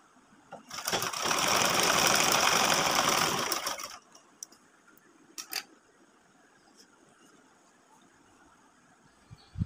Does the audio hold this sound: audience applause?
no